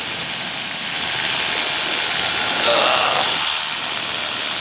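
A paramotor engine runs during a ground taxi test at a cleared takeoff spot near Bungendore, giving a loud, steady, airy roar that swells briefly near the middle before settling back.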